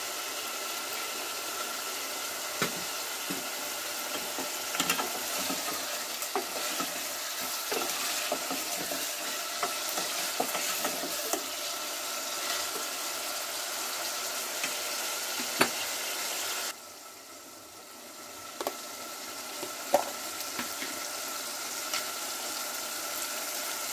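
Country chicken pieces sauté in hot oil with salt, a steady close sizzle carrying scattered scrapes and clinks of stirring, the frying hiss dropping noticeably quieter for the final stretch.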